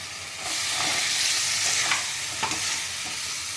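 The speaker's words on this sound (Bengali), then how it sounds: "এবার আমি ভেজে রাখা আলুগুলো দিয়ে দিচ্ছি" Fried potatoes and a green paste of mint, coriander and green chilli hit a hot pan and are stirred, setting off a steady, broad sizzle with a few soft scraping strokes, close up.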